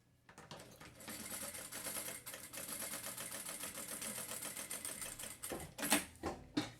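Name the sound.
sewing machine stitching backpack fabric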